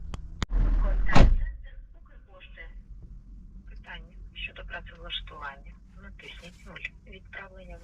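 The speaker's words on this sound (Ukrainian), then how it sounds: "Тепер я дзвоню на гарячу лінію." A call to the Ukrposhta postal service hotline: a loud handling thump at the start, then a narrow, tinny voice comes through the phone line over a low background hum.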